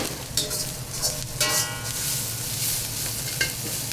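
Noodles for chow mein frying and being stirred in a pan, with a steady close sizzle broken by repeated scraping stirs and light clinks of the utensil against the pan.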